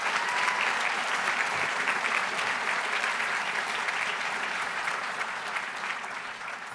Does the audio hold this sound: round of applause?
yes